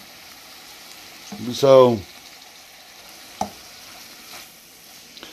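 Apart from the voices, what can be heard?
bacon and green beans frying and stirred in pan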